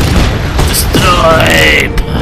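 A fuel tank blowing up in the Just Cause 3 video game, a loud booming blast with crackling debris and mechanical rattles, dense and continuous over about two seconds with a sharp hit near the end.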